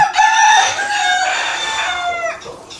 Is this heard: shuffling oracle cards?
no